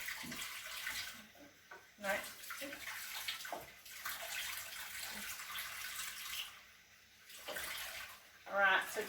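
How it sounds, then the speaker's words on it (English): Hot tap water running into a kitchen container while baking Anzac biscuits, a steady soft rushing stream with a few gurgles and a louder splash near the end. "You can just use hot water from a tap."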